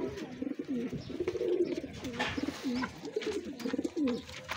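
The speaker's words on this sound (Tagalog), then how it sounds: "Kalapati na yan." Pigeon cooing, soft repeated throaty coos in a steady rolling rhythm from a bird close by, with faint background hiss and no talk.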